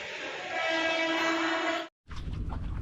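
A train horn blares loudly and steadily for nearly two seconds, then cuts off; after a short gap, rumbling train noise rolls on nearby.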